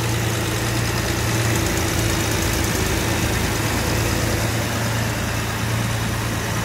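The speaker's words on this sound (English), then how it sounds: "We'll hear the engine note change when she does." A Jaguar 4.2 engine idles on choke after a cold start, newly fitted with electronic ignition, giving a steady, close, unbroken drone with a constant low hum and no voices.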